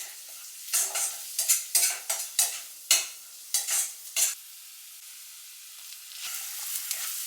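Onion, ginger and garlic with spices frying and being stirred in a pan, a run of about ten scraping, sizzling stirs in quick irregular succession, then a quieter steady sizzle alone.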